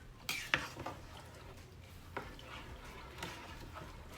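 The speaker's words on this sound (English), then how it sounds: "Give it a little stir." Jamaican rice and peas with canned peas being stirred in a pot, a couple of sharp spoon clinks against the metal at the start, then soft scraping and a few lighter knocks, close and fairly quiet.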